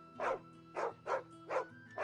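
A dog in the video game Final Fantasy XVI barks five times at a steady, evenly spaced rhythm, close and distinct over a faint low game ambience.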